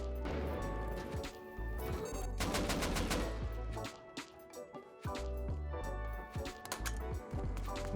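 Rapid bursts of automatic fire from an auto turret in the survival game Rust, loud close volleys broken by brief pauses, with sharp impact cracks between bursts.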